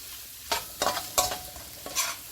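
Shrimp fries in a pan over a flame, a close, steady sizzle with several sharp bursts as the pieces are stirred and moved, and no one talks.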